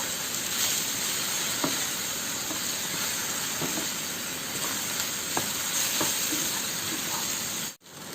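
Banana pieces sauté in a pan with grated coconut, a steady soft frying hiss with sparse faint crackles and light stirring taps throughout, close by, ending with a brief dropout; no talk.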